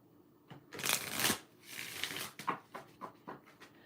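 A deck of cards being shuffled up close, with a few riffling bursts followed by several quick, sharp taps and flicks.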